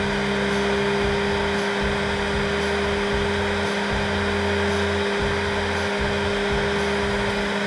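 A heat gun blows steadily as it warms PETG hardline tubing, a loud, even, close airflow roar with a constant hum and no talk over it.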